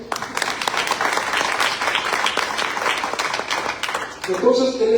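Church congregation applauding for a king during a sermon, a loud sustained burst of clapping from a large crowd that fades as a voice resumes speaking at the end.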